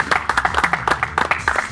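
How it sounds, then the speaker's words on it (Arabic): A small crowd claps in quick, fairly regular bursts for under two seconds, close and moderately loud, with no talking over it. "تصفيق قوية برشا"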